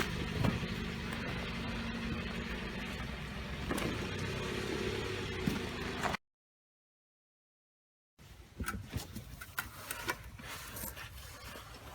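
A Jeep Compass on a test run after a rear brake pad and rotor replacement gives a steady engine and road hum from inside the cabin, then a brief dropout, then the drive resumes more faintly with light knocks.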